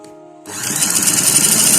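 Sewing machine stitching a kurta seam, starting after a brief hum and then running as a steady, fast, loud whirring buzz.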